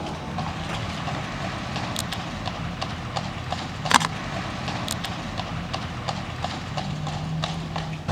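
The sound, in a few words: horse hooves clip-clopping on street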